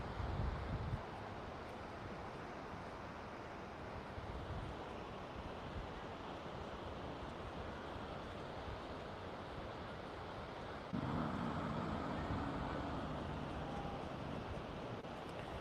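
Ocean surf at a San Diego oceanfront forms a soft, continuous wash of waves with wind, faint and distant, briefly swelling louder near the start and again toward the end, with no voices.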